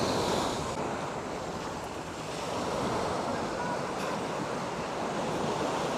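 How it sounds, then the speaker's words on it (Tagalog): Rough ocean waves surging below a grotto viewing deck at Puerto Galera, a continuous loud roar of surf mixed with wind buffeting the microphone, with no voices. "Medyo malakas nga lang ng kaunti ang alon."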